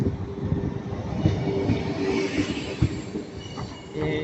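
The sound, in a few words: 2NG regional train at Lille Flandres station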